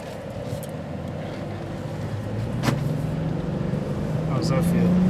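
A car accelerating up hilly neighborhood streets heard from inside, a steady engine drone that rises gradually in pitch and loudness, with a brief click and voices talking over it.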